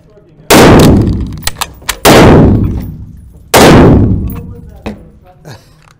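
Swiss guns fire at an outdoor Swiss shooting range: three loud, close gunshots about one and a half seconds apart, each with a sharp crack and a long fading echo, plus faint metallic clicks between them.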